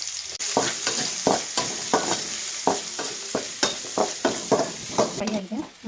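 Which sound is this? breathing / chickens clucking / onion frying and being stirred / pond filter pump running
onion frying and being stirred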